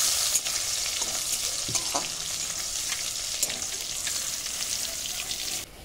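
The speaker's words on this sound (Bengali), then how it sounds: "রসুনটা একটু ভাজা ভাজা করে নেব।" Crushed garlic frying in mustard oil gives a steady close sizzle, with a few soft stirring scrapes and no voices, ending abruptly.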